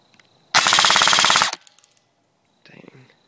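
An airsoft M4 Viper fires a full-auto burst at a tree outdoors, a loud rapid rattle lasting about a second, followed by faint scattered clicks and a brief quieter shuffle.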